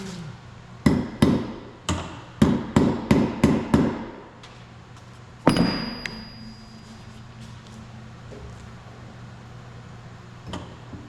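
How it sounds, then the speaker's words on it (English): A hammer bangs on metal in a quick series of sharp strikes, then one heavier ringing blow followed by quiet. "when in doubt, hit it with a hammer."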